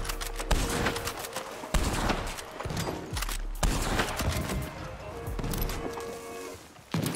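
Bursts of gunfire from the Paint It Black mode of a shooter video game, several rapid volleys separated by brief pauses, loud and close, with faint talk in places.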